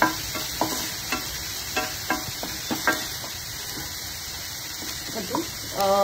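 Onion and gram flour being stirred and roasted in a pan for potato bhaji, with soft intermittent scrapes and light sizzle over a constant high hiss, a brief squeak near the end.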